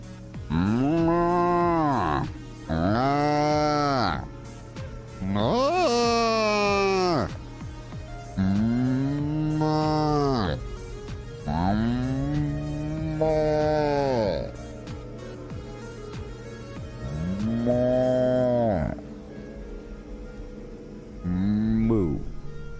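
A voice imitates a cow, giving a series of about eight drawn-out, loud moos with short pauses between them, close to the microphone.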